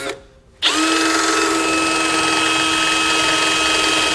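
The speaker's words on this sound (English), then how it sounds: "we're going to use our base plate as a template and drill through the bumper beam" A half-inch drill bit boring through a steel bumper beam for a base plate install: a loud, sustained high whine starts abruptly after a short quiet moment and holds steady and close.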